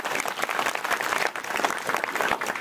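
A school crowd at a primary school's annual gathering gives the teachers a dense, sustained round of applause, close and lively, with no voices over it.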